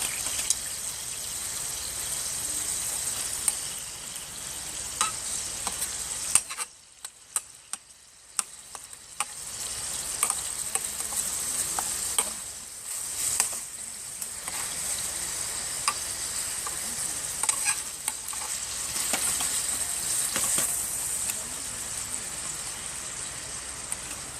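Lunch sizzling in a pan on a Ranger stove, a continuous frying hiss with scattered clicks and ticks, briefly dropping away around the seven-second mark before resuming, with no speech.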